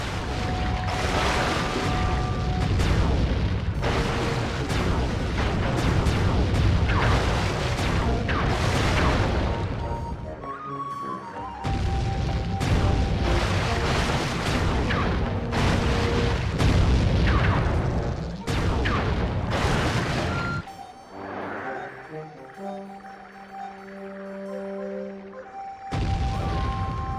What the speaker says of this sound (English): Murray rows and Sly mans the cannon